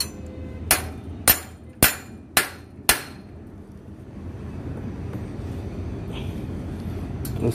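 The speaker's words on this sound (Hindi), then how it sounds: "क्वार्टर पिन को थोड़ा ठोक लेंगे।" Five sharp hammer blows tap a cotter pin into a plain bicycle's chainring crank, evenly spaced over about two and a half seconds, followed by quiet room noise.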